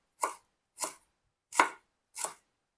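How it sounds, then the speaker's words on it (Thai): Knife chopping lemongrass finely for prawn tom yum, four crisp, evenly spaced chops on a board, close and fairly quiet with silence between strokes. "ขาตะไคร้นี่ทานได้นะครับ เป็นยานะครับ หั่นให้เข้าละเอียดอย่างนี้เลยนะครับ"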